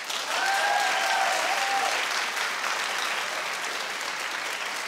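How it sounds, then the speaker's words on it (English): Steady, loud applause from a television talk-show studio audience, sustained for about five seconds, with a brief whistle near the start and no speech. "Clap if you like that."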